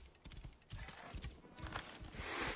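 In Assassin's Creed Origins, a horse clops along in a quick, uneven hoof rhythm and gives a faint whinny, all quiet and slightly distant.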